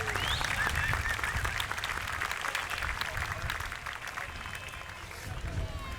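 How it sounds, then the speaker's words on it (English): A crowd along a street at an Armed Forces Day parade in Torrance, California claps, a faint, scattered spread of outdoor applause over a low rumble of open-air background noise that carries on throughout. "Round of applause, please."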